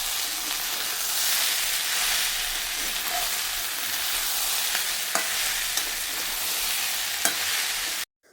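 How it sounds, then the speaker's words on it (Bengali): Ghugni sizzles and fries steadily as it is stirred in a pan with ginger-garlic paste, onion-chili paste and cumin powder, a dense continuous hiss with occasional soft scrapes and clicks of the spoon, close and loud, no voices. "ঘুগনিটাকেও আমি কষিয়ে নিলাম, একটু আদা রসুন বাটা, পেঁয়াজ লঙ্কা বাটা, জিরের গুঁড়ো দিয়ে"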